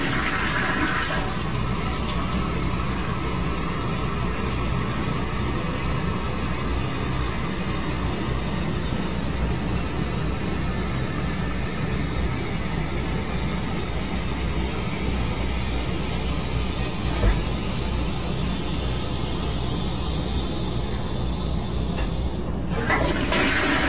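A household toilet flushed by a cat gushes and refills in a long, steady, moderately loud rush of water, tailing off and surging again near the end, with faint voices in the background.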